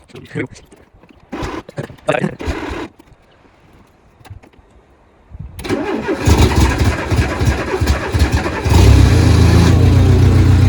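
A Renault 4L is started up. The starter cranks in bursts, there is a short pause, and then the engine catches and settles into a loud idle that gets stronger toward the end. A voice can be heard briefly at the start.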